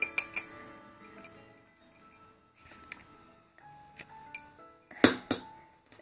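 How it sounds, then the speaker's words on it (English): A glass bottle clinks and taps as it is handled during an unboxing of merchandise. Several bright, ringing knocks stand out, some close together, separated by quiet gaps with faint rustling. "So it's the bottle. And it's made out of glass."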